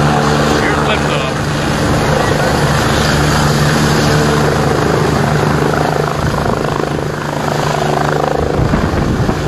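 A medevac helicopter lifts off from a crash scene on Route 240 in Fairhaven, its rotor and engine roar loud and close, a steady dense wash filling the whole stretch.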